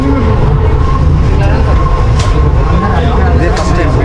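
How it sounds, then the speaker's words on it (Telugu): Hyderabad city metro train running, a loud steady low rumble and rail hum inside the carriage with faint squeals, under talk from passengers. "సిటీ మెట్రోలో అయితే ఎక్కాము."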